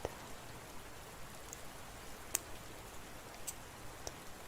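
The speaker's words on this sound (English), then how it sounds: "the sound of rain" Soft, steady rain patter with occasional sharper drips and ticks standing out, quiet and continuous with no voices.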